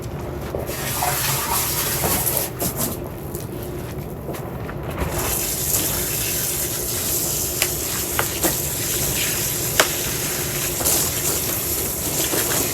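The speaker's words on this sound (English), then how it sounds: "give this one a good rinse to get rid of all that old soil" Water splashes and trickles while old soil is rinsed off the roots of a yamadori bonsai tree that has sat in the same soil for five years, a steady close wash with scattered clicks and knocks and no talking.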